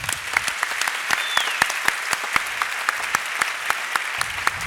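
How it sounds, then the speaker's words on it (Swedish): A crowd at an architecture awards ceremony gives warm, sustained applause, with many close hand claps that keep an even, lively patter throughout and no talking over them. "Jag tycker att vi ger Örebro kommun och stadsarkitekten en varm applåd."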